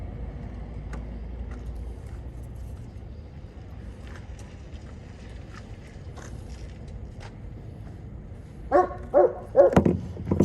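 A dog barks several times in a quick cluster near the end, fairly close, over a steady low engine-like rumble from a truck setting.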